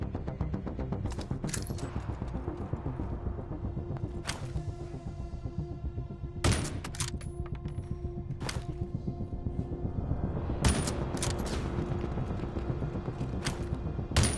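Sniper rifle shots ring out in Tom Clancy's The Division Resurgence mobile game, a series of sharp, loud cracks spaced a second or more apart over a constant low rumbling game backdrop.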